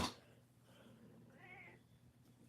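A cat gives a couple of short, faint meows close by in a quiet room, the second one higher and more drawn out, with no talk.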